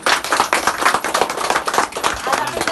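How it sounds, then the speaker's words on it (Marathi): An audience applauds at a Sambhaji Brigade campaign rally in North Mumbai, with dense, energetic clapping close by and voices mixed underneath. "त्यांच्यासाठी एक जोरदार टाळ्या झाल्या पाहिजे"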